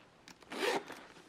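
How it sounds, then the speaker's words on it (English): A zipper on a purse is unzipped in one quick, rasping pull that swells loudly in the middle, with softer zipper rubs just before and after. "unzip"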